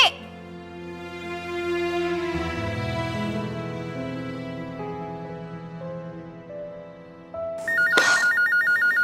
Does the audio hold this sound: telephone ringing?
yes